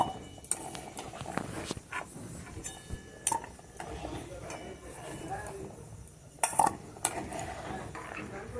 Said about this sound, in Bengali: আলুটা আমি একটা অন্য পাত্রের মধ্যে তুলে রেখে দিলাম